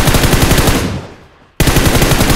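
Loud, close bursts of rapid automatic gunfire in PUBG Mobile, a sustained volley that fades off, a brief pause, then another abrupt burst.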